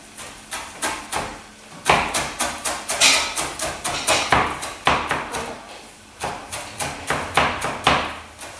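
A knife chops parsley and garlic finely on a board in a steady run of quick, close, fairly loud taps with two brief pauses, and no voices.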